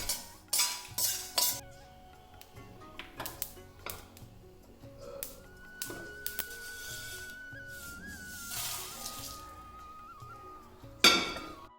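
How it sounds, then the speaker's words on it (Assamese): Spices are dry-roasted on low flame in an iron kadai for a radish pickle. Quiet, intermittent metallic scrapes and clinks of a stirring utensil against the pan are heard, with soft rustles between them and no talk. "এতিয়া কেৰাহী এখনত মছলাখিনি ভাজি ল'ম ফ্লেমটো ল' কৰি"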